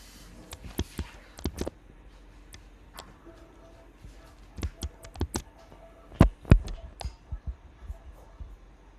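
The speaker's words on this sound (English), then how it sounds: "I'm typing that right now." Scattered clicks of typing on a computer keyboard during an online class, irregular taps in small bursts, close and fairly quiet.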